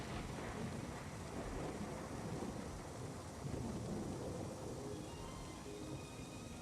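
A thunderstorm pours steady, dense rain, a continuous wash of noise with deep rumbling underneath, unbroken from start to end and with no voices.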